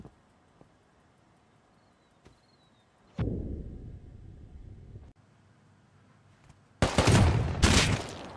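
Gunfire in the video game Rust: a few sharp, isolated shots early, then a short noisy burst, a pause, and a loud rapid volley of close gunfire near the end.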